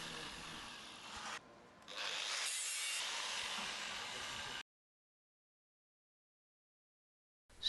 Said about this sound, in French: Nous poursuivons la découpe, mais cette fois-ci de manière longitudinale du compresseur